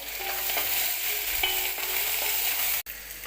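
Ingredients sizzling in hot oil, a loud steady hiss with scattered crackles, close by, broken once by a brief sharp cut near the end.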